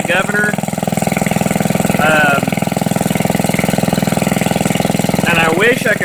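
A 1948 Briggs and Stratton WMB small engine running with no governor fitted, a loud, close, rapid steady putter with a person talking over it at moments.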